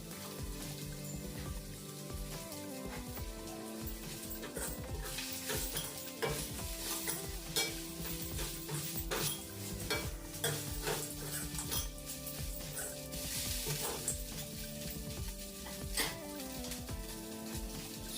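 Flattened rice (poha) tipped into a hot pan of tempering for avalakki chitranna and stirred, giving a steady close sizzle with continuous scraping and clinking of the spoon against the pan, no voices.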